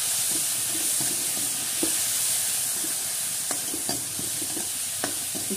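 Potatoes with turmeric, coriander-cumin powder and chili frying in a pan for an aloo sabzi, a steady close sizzle broken by repeated scraping taps of a spoon stirring the pot, with no voices.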